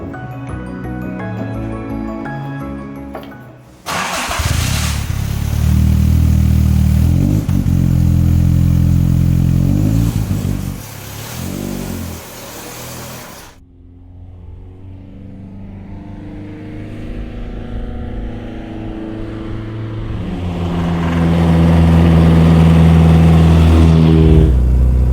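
A Triumph TR2 sports car engine starts and runs, a loud, close rumbling idle that rises into revving, drops back, then builds again as the car drives off.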